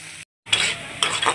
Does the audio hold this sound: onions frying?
yes